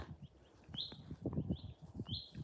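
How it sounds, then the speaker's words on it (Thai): Short, high whistled calls of a bullfinch repeat every second or so, with rustling and low knocking noises underneath, in a snowy setting. "เสียงนกบูฟิงนะคะ"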